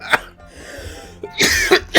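A person coughs in several sharp, close bursts, one early and a harsh cluster near the end, with a rough throat-clearing quality.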